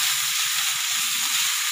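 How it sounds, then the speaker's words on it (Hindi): Raisins fry in a pan for coconut kheer, giving a steady, bright sizzle and hiss that holds evenly throughout, close and continuous, with no talk. "और ये किशमिश भी हम इसी में डाल देंगे, थोड़ा सा इसको भी फ्राई कर लेंगे"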